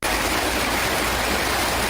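Water hose running outdoors by a pool, a loud, continuous hiss of rushing water close by, steady from start to finish with no voices.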